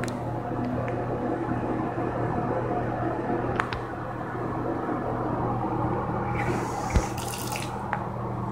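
Water runs steadily from a Delta tub faucet into a bathtub in a 1974 Mansfield Mohican, a continuous splashing stream with a few small clinks and a brief burst near the end.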